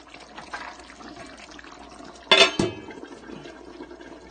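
Evaporated milk poured into a pan of Filipino-style chicken curry, a short close liquid splash and gurgle lasting about a quarter second amid quiet kitchen background.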